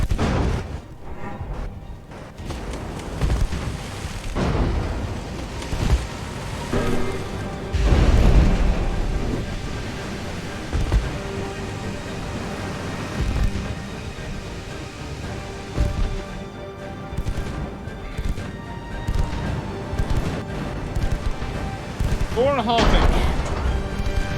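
Deep booming naval gunfire, including 4.5-inch guns, bursts repeatedly through a dense, rumbling video game soundscape, with heavy thuds and crashes layered over continuous background noise.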